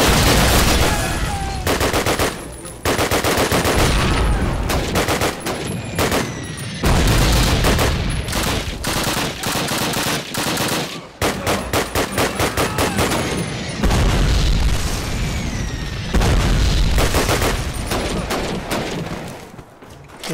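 Heavy, continuous Call of Duty (2003) battlefield gunfire: dense machine-gun bursts and rifle shots rattle loudly throughout, with brief gaps between long sustained volleys.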